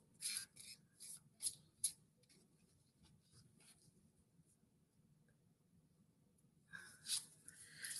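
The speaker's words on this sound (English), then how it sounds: "So we're shuffling the Archangel Tarot cards" Archangel tarot cards being shuffled by hand, a run of brisk papery riffles and rubs in the first two seconds, a quiet pause, then more card sounds near the end, close and with no talking.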